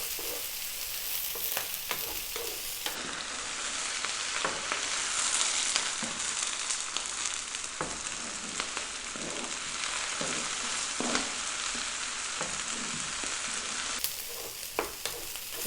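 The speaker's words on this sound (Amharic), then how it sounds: "ለ2 ደቂቃ እነዚህንም በደንብ እንጠብሳለን።" Frozen mixed vegetables for curry rice frying in a pan over high heat: a loud, continuous crackling sizzle with intermittent scraping and stirring strokes throughout.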